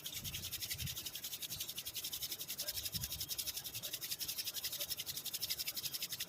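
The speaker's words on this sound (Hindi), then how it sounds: "हाथों को ऊपर करेंगे, ऐसे रगड़ेंगे" Palms rub briskly together during a yoga exercise, a soft, rhythmic swishing friction repeated in quick strokes, faint and close, with no talk.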